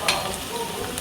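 Thin potato slices fry in hot oil with a brief, steady, close sizzle.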